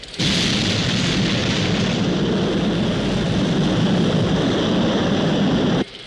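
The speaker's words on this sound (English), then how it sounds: "We have liftoff." A rocket lifts off in a dense, continuous roar that starts abruptly, holds loud and steady for several seconds, then cuts off sharply.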